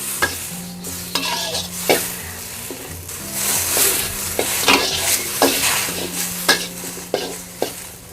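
Red chillies with a little water cook in a pan for a Thai dried-mackerel chilli dip, a steady sizzle running under repeated scraping stir strokes, close and fairly loud, no voices.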